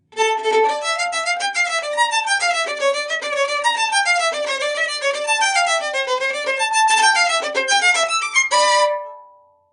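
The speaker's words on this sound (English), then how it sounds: "The second movement is marked scherzo" Orchestra playing the fast scherzo theme in triple time from the second movement of Beethoven's Ninth Symphony, a continuous busy passage of driving repeated notes at steady loudness that fades out at the end, with no voices.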